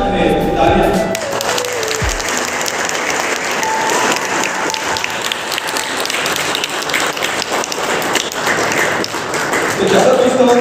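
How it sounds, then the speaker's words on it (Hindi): Congregation at a farewell and welcome program in a church applauding to greet new guests, dense sustained clapping filling the hall for several seconds, loud and close. "तालियों से स्वागत करें इनका, क्योंकि ये हमारे पल्ली की नई शान है। तालियां।"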